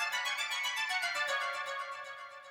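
A bright, rapidly pulsing synth line in the Arabic scale for organic and deep house production, its sustained notes shifting pitch and fading slightly toward the end, with no other sounds.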